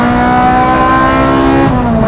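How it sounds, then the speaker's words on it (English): A Ferrari 355 engine revs hard and loud, a sustained high mechanical wail that climbs steadily before a brief dip near the end, heard close and alone. "What I really like about the 355 is when you rev it."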